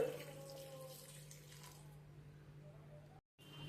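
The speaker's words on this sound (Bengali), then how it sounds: "যতটা গ্রেভি রাখবো তার জন্য দিয়ে দিচ্ছি উষ্ণ গরম জল" Warm water poured into a simmering potato and cauliflower curry, a faint, continuous pouring and splashing that thins out midway and cuts briefly before resuming, no talking.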